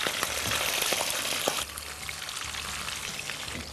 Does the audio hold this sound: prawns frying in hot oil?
yes